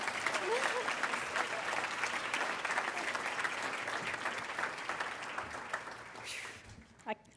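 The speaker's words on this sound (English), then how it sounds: "give a huge round of applause to Mrs." At a county Teacher of the Year event, a crowd gives a sustained round of clapping for an honoree, steady and full for several seconds before tapering off, with a few final claps at the end.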